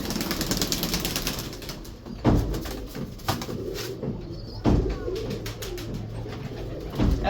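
Pigeons kept at a home loft, with soft coos near and far mixed with rustling and sharp tapping clatter at irregular intervals, and no one talking.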